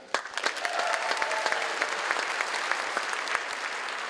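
Parents in a comedy festival gala audience applaud, the clapping swelling quickly into a steady, dense roar of many hands that holds for several seconds, with a few faint voices mixed in.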